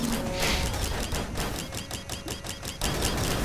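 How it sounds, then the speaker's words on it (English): Rapid rattling bursts from fireworks in the video game Risk of Rain, a dense rapid-fire crackle over continuous loud game noise, with no talking. "I really love the fireworks, they're quite nice."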